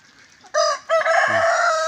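Rhode Island Red and Black Australorp chickens crow and cluck nearby: a short harmonic call, a pause, then a longer loud crow, with a low grunt partway through.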